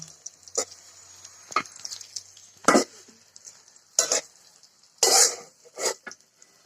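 Pointed gourd slices sizzle in a frying pan with a steady high hiss, broken by several sharp spatula scrapes and clunks as the fried pieces are stirred and lifted out.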